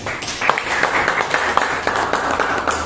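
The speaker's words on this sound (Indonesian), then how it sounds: "Tepuk tangan, tepuk tangan." Students in a classroom give a short round of applause, steady scattered clapping at moderate volume lasting a few seconds.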